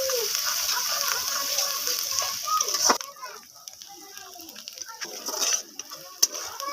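Onions fry in hot oil while being stirred until brown: a steady sizzle with intermittent scraping stir strokes, fairly close and moderately loud.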